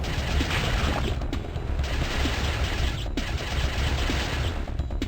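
Rapid gunfire bursts from shooting amoebas in the point-and-click game Ripper, a dense, steady barrage of loud shots and thuds running throughout without pause.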